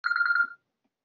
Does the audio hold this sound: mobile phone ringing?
yes